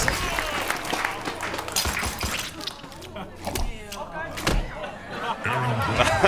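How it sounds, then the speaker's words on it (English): Esports tournament crowd reacting to the first fatality in a Mortal Kombat X match, a loud burst of clapping and cheering mixed with thuds and game sounds, continuing under a commentator's voice throughout. "I love hearing the crowd reaction to that."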